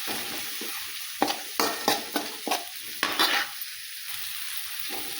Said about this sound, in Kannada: ಈಗ ಹಾಕ್ತೀನಿ ನೋಡಿ, ಟಮಾಟೆ ಹಾಕಿ ಚೆಂದಾಗಿ ಮಿಕ್ಸ್ ಮಾಡ್ಕೊತೀನಿ.